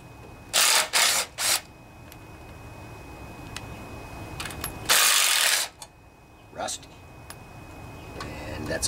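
A ratchet fitted with a 7/16 socket backs bolts off an 8 HP Briggs and Stratton riding lawnmower engine, giving two short bursts of rapid clicking followed by a longer run of ratcheting against a quiet workshop background.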